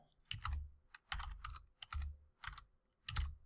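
Keystrokes on a computer keyboard come in quick bursts of clicky taps, grouped into several short runs with brief pauses between them, close and fairly quiet.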